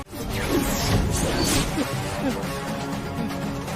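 Heavy crashing and clattering of stones tumbling, loud and close, with whooshing impacts and a voice faintly mixed in.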